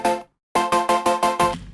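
A bright Serum synth pluck with effects sounds once, then after a brief gap repeats in five quick rhythmic hits with a shimmering effected tail.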